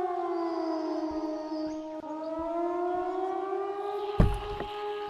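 A civil-defense style siren wails in the video game Zompiercer, holding a loud, sustained harmonic tone that slowly rises in pitch, with a brief thump near the end.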